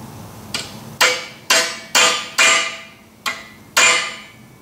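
Hammer blows on metal over an anvil in a workshop: seven sharp, ringing strikes in an uneven rhythm, close and loud, each decaying briefly, with no talking.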